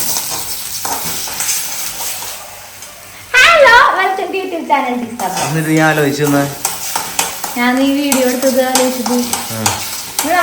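Egg frying in a pan, with a steady broadband sizzle running under a child's and an adult's voices that talk over most of the clip.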